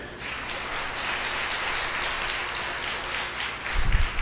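Steady applause fills a church women's meeting, dense and sustained clapping from a gathered crowd with no speech, plus a brief low thump near the end.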